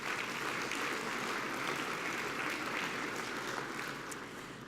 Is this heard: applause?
yes